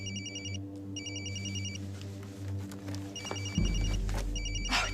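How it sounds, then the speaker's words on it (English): A telephone rings in repeated electronic trill bursts indoors, three rings spaced across the stretch, with a low steady hum beneath and a thump of movement near the end. "Don't answer that phone."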